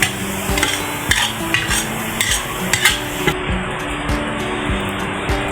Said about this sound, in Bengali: এখন পেঁয়াজগুলো তুলে নেব